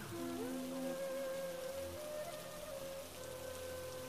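Steady rain falls in an even, continuous hiss of drops on surfaces, with soft melodic music playing faintly underneath.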